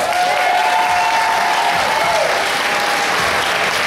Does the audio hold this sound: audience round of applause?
yes